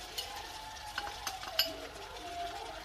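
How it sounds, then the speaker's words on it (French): Chopped chicken escalopes are stirred with spices in a pan: a faint, quiet run of soft scrapes and light clicks from a utensil against the cookware, spaced irregularly over a low background hum. "Donc là, j'ai mélangé avec mes épices."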